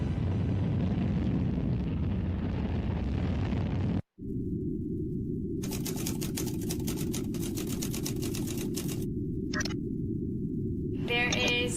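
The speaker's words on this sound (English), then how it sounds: "And liftoff." A rocket liftoff roars as steady broadband rumble, cutting out briefly near four seconds before resuming with a strong low-frequency roar, overlaid by crackling and radio-like chatter bursts later on.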